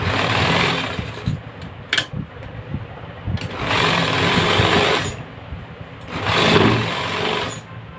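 Sewing machine stitching a shirt collar, running in three long bursts of steady whirring separated by short pauses, handling clicks and fabric shifts, close and fairly loud with no talk.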